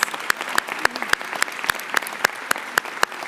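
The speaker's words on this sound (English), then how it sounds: "To your family and friends, I'd like the graduating class to give a special round of applause." A graduating class at a law school convocation applauds family and friends, sharp individual claps landing steadily and fairly close, thinner and more scattered than a full ovation, with no voices over them.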